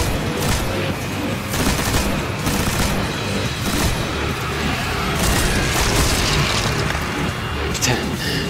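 Heavy gunfire and booming impacts roar during a Destiny firefight, continuous loud volleys with rhythmic bursts, and a voice talks over the shooting.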